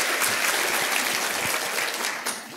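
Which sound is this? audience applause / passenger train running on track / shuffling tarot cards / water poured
audience applause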